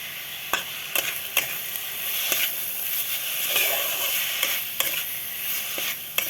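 Grated coconut and date palm jaggery filling for puli pitha stirs in a pan over low flame, a steady close sizzle and hiss broken by regular scraping knocks of the spatula against the pan.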